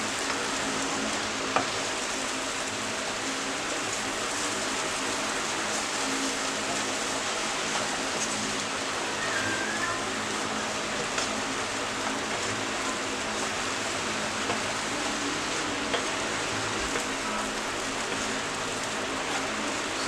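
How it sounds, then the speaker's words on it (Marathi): Roasted bread slices with masala sautéing in a pan, a steady soft sizzle and crackle that runs continuously at an even level, with no talking over it. "सगळं एकत्र परतून घेऊया आता"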